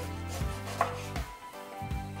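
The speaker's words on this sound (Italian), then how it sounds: "Adesso andiamo a tagliare" Knife chopping peeled mango on a cutting board, a few crisp separate cuts close by in an otherwise quiet kitchen.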